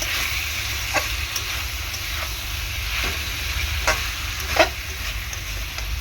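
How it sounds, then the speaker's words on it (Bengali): Potatoes sauté with salt in a hot pan, a steady oily sizzle broken by occasional scrapes and clinks of a stirring spoon against the pan, close and continuous with no talking. "দিয়ে ভালো করে আলুটাকে এরকমভাবে কষিয়ে নেব।"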